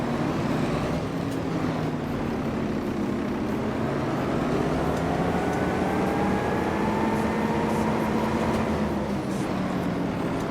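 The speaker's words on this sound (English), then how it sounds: "I'm getting stuck on my tractor." A tractor engine in the Farming Simulator 25 video game drones steadily at low pitch with a rising tonal whine, continuous and fairly loud throughout with no talk.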